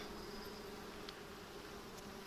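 Honeybees hum around an open hive during a July inspection, a continuous close buzzing drone with a few louder passes near the ear and no talking.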